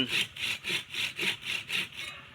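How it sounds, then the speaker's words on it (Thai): A hand saw makes the upper cut through a bamboo branch being prepared for air layering. About seven even, rhythmic back-and-forth strokes rasp up close with no talk, then the sawing stops. "เลื่อยบน"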